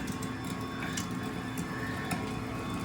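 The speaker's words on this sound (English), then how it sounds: "Now we're gonna run it through the grinder a second time" A meat grinder runs continuously while seasoned venison sausage goes through it a second time, giving off a steady, dense mechanical churn with faint ticking close by.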